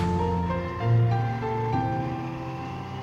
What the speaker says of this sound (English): So here's where the gravel section starts.